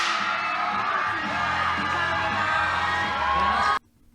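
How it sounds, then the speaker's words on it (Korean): A loud audience roars with cheers, whoops and shouts for a girl group taking first place on a music show, a continuous wall of crowd noise that cuts off abruptly near the end. "야, 환호 소리가 이렇게 크다니."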